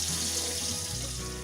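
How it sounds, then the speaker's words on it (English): Cold tap water runs steadily into a kitchen sink over corned beef being rinsed, a close, even rushing stream with no pauses. "I like to let it just sit under the cold flow of water for a few minutes."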